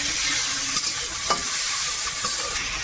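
Garlic paste frying with river crab, Malabar spinach and potato in a pan, a loud steady sizzle with soft scraping stir strokes scattered throughout.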